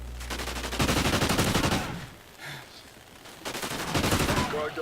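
Rapid automatic gunfire from the Call of Duty video game, loud bursts of shots in two dense volleys separated by a short quieter lull, with no talking.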